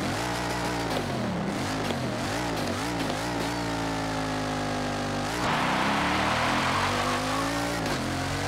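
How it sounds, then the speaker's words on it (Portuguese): A Bugatti Chiron engine in the racing game Forza Motorsport 7 revs hard and steadily, its pitch repeatedly climbing and dipping through gear changes before surging into a sustained high whine, loud and close with no talking. "Esse som de motor é espetacular"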